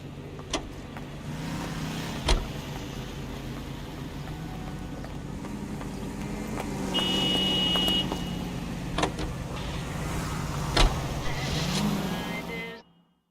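A car drives along in the video game L.A. Noire, a steady engine drone that swells as it accelerates, with occasional clicks and knocks and a brief higher tone midway, then cuts off.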